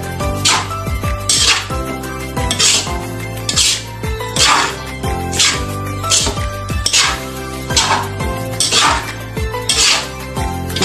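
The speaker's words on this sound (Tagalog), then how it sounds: "Haluin lang po natin siya." Metal utensil scraping and clanking against a pan while stirring sinangag, Filipino garlic fried rice, in a steady repeated rhythm of loud metallic strokes with a sizzling undertone throughout.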